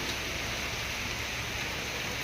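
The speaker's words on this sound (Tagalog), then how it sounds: "Medyo malakas ang ulan." Heavy rain pours steadily with wind among banana and coconut trees after a typhoon, a dense, constant hiss that stays loud and unbroken throughout.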